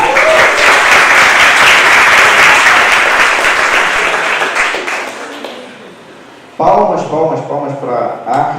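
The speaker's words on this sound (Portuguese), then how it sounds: "Palmas para a arte, Ana Paula Romero." Audience applause fills the room, a dense, loud wash of clapping that swells then fades away over several seconds before a voice speaks over the quieter room.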